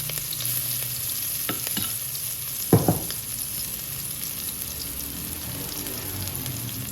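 Garlic, ginger and chili sizzle steadily in hot ghee in a pan, with a few brief scraping stirs partway through, close and moderately loud.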